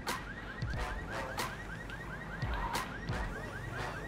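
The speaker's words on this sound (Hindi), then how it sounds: "नहीं, अलार्म बज चुका है," A car alarm goes off in the GTA 5 video game, cycling through a repeating chirping, warbling siren pattern at a steady pace, with a few thuds underneath.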